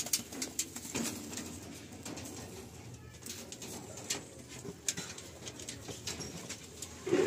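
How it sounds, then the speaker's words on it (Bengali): Male pigeons in a loft give faint, low cooing under a soft background hum, with scattered light clicks and rustles and no talking. "এগুলো সব নর পায়রা"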